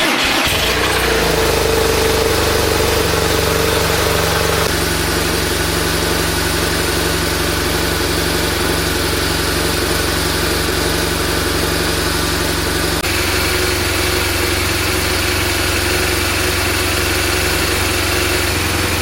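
BMW R1200RT motorcycle engine idling in a warm-up phase with a steady, close, loud drone and a slight shift in tone partway through.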